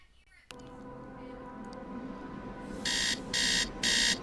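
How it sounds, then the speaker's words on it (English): An alarm clock in the video game Tales of the Neon Sea sounds three loud, evenly spaced beeping bursts after a sudden onset, over a steady humming background. "Beep, beep, beep. Wakey, wakey. It's time to get up."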